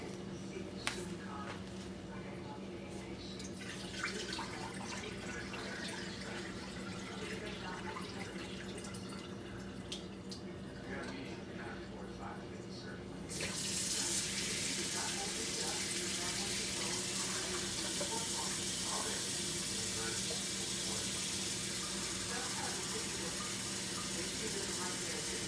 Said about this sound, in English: I'm going to go rinse that out.